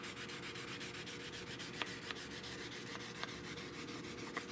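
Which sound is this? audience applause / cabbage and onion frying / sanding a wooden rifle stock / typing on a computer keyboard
sanding a wooden rifle stock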